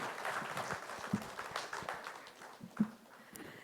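A seminar audience applauds speaker KS Rao, a loose patter of clapping hands with a few louder claps standing out, moderately distant and fairly soft, with little talk over it.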